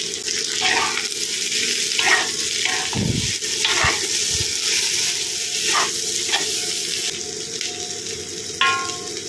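Chopped tomato and capsicum frying in a pan with a soft continuous sizzle, broken by several sharp clinks and scrapes of a spoon against the pan at irregular intervals.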